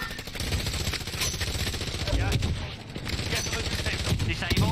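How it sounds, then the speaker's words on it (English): Bursts of rapid gunfire from a video game shootout with squads and vehicles, dense and crackling and fairly loud throughout, with overlapping volleys and voices talking under the shots. "They're actually getting shot by another team."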